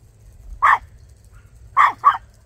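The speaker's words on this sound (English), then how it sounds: "the big dogs are out next door" Big dogs next door bark in three short bursts, one single bark followed by a quick double, heard at moderate distance across an otherwise quiet yard.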